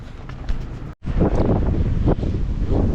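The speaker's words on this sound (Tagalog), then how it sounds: "Lakas ng hangin." Strong, cold wind at a campsite in Malico, Pangasinan buffets the microphone in loud, continuous gusts, broken by a brief dropout near the start.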